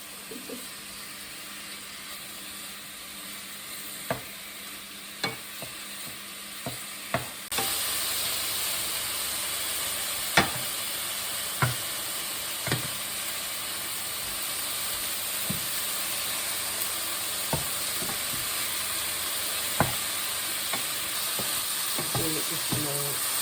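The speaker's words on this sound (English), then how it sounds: "Oh, it's starting to sizzle now." Meat frying in a pan on a non-gas hob, with a steady sizzling hiss and sharp pops and spatters at irregular intervals. The sizzle grows louder partway through and stays close and continuous, with no voices.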